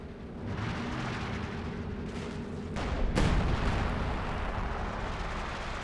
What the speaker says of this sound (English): So the Howitzers are targeting this area.